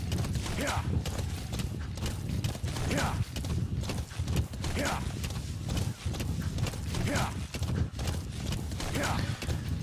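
In Metal Gear Solid 5: The Phantom Pain, a horse gallops across open savanna with steady, rhythmic clip-clopping hooves. The hoofbeats are close and run continuously, with light ambient game sound and some speech-like sound mixed in.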